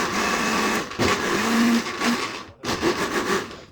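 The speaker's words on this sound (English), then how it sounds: "I like to blend my beans twice" Electric blender grinding soaked beans with onion and pepper for Nigerian akara, a loud churning whir that surges and dips in pulses, briefly cutting out near two and a half seconds before resuming.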